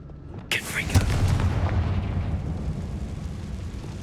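A Confringo blasting spell goes off in a closed mine in Hogwarts Legacy, a sharp crack followed by a loud booming explosion that rumbles and fades over several seconds.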